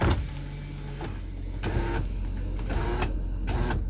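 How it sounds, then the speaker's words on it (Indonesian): Power window motor in a 2014 Daihatsu Sirion 1.3 city car, a steady close electric whir running for several seconds inside the cabin, punctuated by a few brief clunks. "power window."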